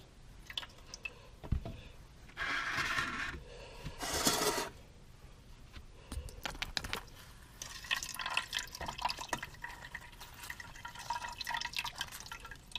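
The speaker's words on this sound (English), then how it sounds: "rinse what's on this sieve into this could be a beaker. I'm going to use this kind of measuring cup thing." Water is rinsed through a sieve of soil into a measuring cup, with irregular splashing, trickling and dripping bursts, some louder rushes of pouring and clinks of the sieve, heard close up without talk.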